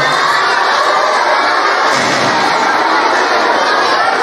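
A crowd of children at an Islamic religious talk claps and cheers loudly after a prize is announced, with shrill shouting and clapping filling the whole moment.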